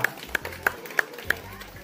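Five or so sharp hand claps in a steady rhythm from an audience at a village Vinayaka Chavithi festival prize-giving, fairly close, with faint voices in the background.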